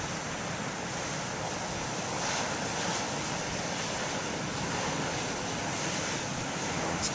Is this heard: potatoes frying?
no